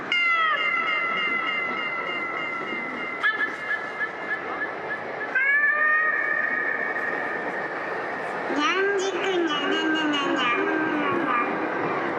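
Cartoonish cat meows from a giant 3D cat animation screen in Tokyo, drawn-out tonal calls repeating over a busy street din, with people talking nearby.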